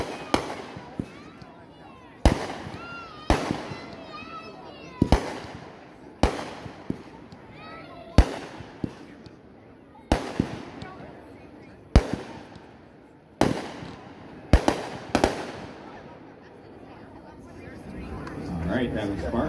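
A Spartan consumer fireworks cake fires at an outdoor demo: about a dozen sharp, loud booms in an irregular rhythm, each followed by crackling and fading, with voices talking between shots.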